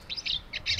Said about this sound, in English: American goldfinch.